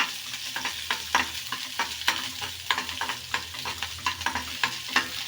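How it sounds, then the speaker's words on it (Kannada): Onions fry and sizzle in a pan while being stirred, steady crackling with repeated scraping strokes of the spoon, close and continuous, for a curd sambar. "ಇದನ್ನು ಈರುಳ್ಳಿನ ಕೆಂಪಾಗೋ ಮಟ್ಟಿಗೆ ಹುರಿರಿ."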